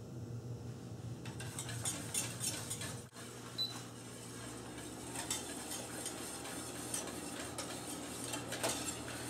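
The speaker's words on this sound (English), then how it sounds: "Make sure you stir on the side here, so it doesn't start to burn on the side or stick on the side" A utensil stirs thick pastry cream in a pot, giving repeated close clicks and scrapes against the pot's sides and bottom in an uneven, continuous rhythm with a short pause early on.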